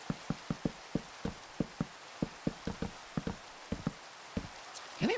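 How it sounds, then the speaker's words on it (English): Rain falling in the Minecraft video game, heard as a steady hiss with a regular series of close, soft knocking taps across the clip and no talk. "Oh, and it's raining."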